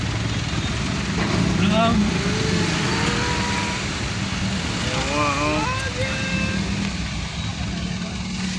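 Heavy, congested road traffic with a long line of vehicles, a steady dense engine rumble throughout, with scattered horn-like tones and other voices or noises rising over the constant wash.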